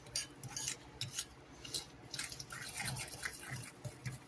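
Butter and brown sugar being creamed together in a bowl for chocolate chip cookie dough, quiet close scraping and squishing strokes of a utensil in an uneven rhythm, no voices.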